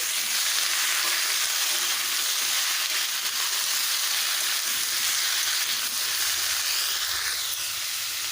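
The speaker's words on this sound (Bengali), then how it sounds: "এবারে দিয়ে দেব একে একে সবজিগুলো দিয়ে দেবো আলু সব সবজিগুলো একসঙ্গে দিয়েছি" Potatoes and other vegetables fry together in hot oil in a pan for a light Bengali vegetable curry. A loud, dense, steady sizzle runs throughout, close up and with no voices.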